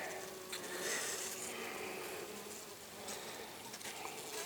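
A dense, continuous buzz of many honey bees, calm while honey is cut from log hives, fills the air, steady and close, with no talking.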